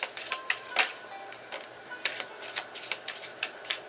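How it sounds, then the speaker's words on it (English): Tarot cards being shuffled by hand, a run of short crisp riffling clicks and flicks in quick bursts, close and fairly quiet with no talk. "Alright, I'm gonna do 3 shuffles."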